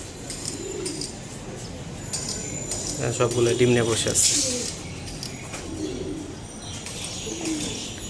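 Soft pigeon cooing murmurs in the background while a person talks over it, with a brief jingling sound partway through.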